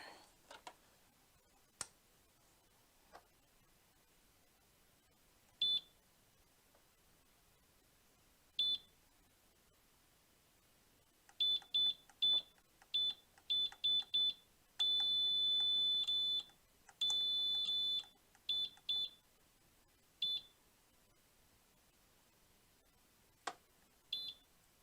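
DK3D sublimation machine emits sharp electronic beeps, at first sparse and isolated, then rapid clusters and a long continuous tone in the middle, with quiet gaps between, no talk.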